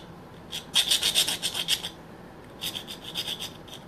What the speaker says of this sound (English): The powder coating got a little bit in the grooves there, so I have to sand it off a little bit here